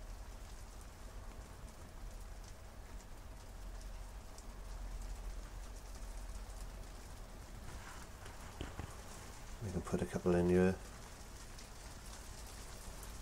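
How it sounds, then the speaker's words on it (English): Steady rain falls outside throughout, a soft continuous patter with a few louder knocks near the end, while a person speaks briefly. "That you can hear the rain coming down today."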